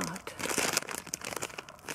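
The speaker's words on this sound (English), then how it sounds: "Let's open them. Look at how they are packaged. I guess I'll just lift it off." Orange candy packaging being handled and opened, close crinkling and crackling of wrapper material with some tearing, dense and continuous.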